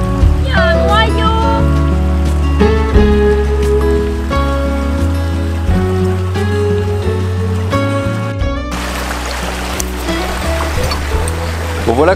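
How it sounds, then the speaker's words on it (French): Dishes being washed by hand in a river stream with a brush, water splashing and running steadily close by while people talk over it. "comme ça vous avez vu comment on fait la vaisselle à la rivière"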